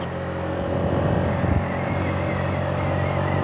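Honda CG 125cc motorcycle ridden at night on a bypass road near Khairpur Nathan Shah, its engine droning steadily with rushing wind noise, loud and continuous throughout.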